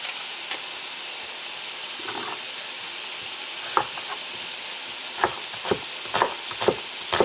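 Two sliced onions sizzle in hot oil in a pan, a steady hiss with intermittent louder crackles and pops growing busier toward the end, no talking.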